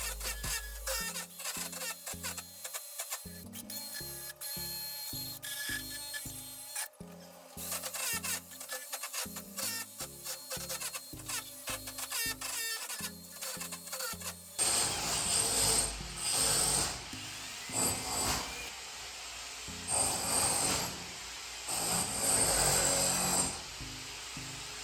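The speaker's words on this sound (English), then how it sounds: "using an inside pipe cutter tool on my drill" A power drill fitted with an inside pipe cutter whirs and chatters in rapid mechanical bursts, pausing and restarting, then a rougher grinding cut through a shower drain pipe takes over in the second half.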